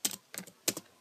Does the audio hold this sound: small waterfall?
no